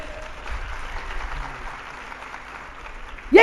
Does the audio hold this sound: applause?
yes